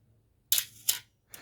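An Olympus OM-1 film camera's shutter fires at a slow speed, giving sharp mechanical clicks with a short gap between opening and closing, then a fainter click, close up in a quiet room.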